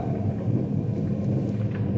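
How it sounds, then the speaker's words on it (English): Rumbling thunder from a building storm rolls continuously, a deep steady growl with no voices over it. "That storm's beginning to kick up an awful fuss."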